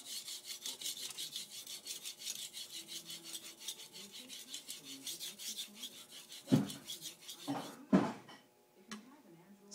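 Wusthof kitchen knife drawn across a whetstone in steady repeated scraping strokes, a continuous close rasp with a couple of louder knocks near the end as the blade is handled.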